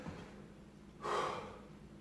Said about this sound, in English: I want you to take 10 deep breaths in